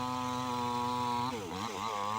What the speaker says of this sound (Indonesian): Alat tersebut adalah gergaji listrik yang berguna untuk memotong kayu sebagai bahan utama pembuatan kerajinan.